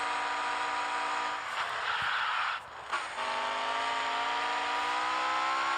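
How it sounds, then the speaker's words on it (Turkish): Video game car engine drone, steady and loud with a dip midway as the pitch shifts, then continuing to hum on, with no voices. "Oğlum çok iyi araba sürüyormuş"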